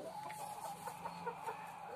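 Chickens on a small Indonesian backyard farm, kept as free-range village birds, clucking steadily at a moderate distance. Soft repeated clucks and murmurs sit over a constant low background hum, with no one talking.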